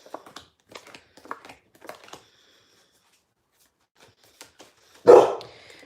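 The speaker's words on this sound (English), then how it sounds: "Who you barking at, Dill?" A single loud, close dog bark bursts out near the end, after several seconds of faint tapping and shuffling noises.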